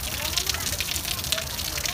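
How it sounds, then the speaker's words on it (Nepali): Water gushes from the stone spouts of 22 Dhara in Balaju, Kathmandu, as a steady, dense rushing splash that runs without pause, with faint voices mixed in. "सबैभन्दा धेरै पानी चाहिँ यहाँ आउँदो रहेछ"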